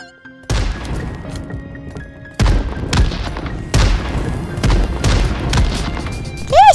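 Bombardment explosions in a first-person survival shooter game, several loud booming blasts with sharp onsets and ringing decays arriving in irregular succession, ending with a rising whistling tone.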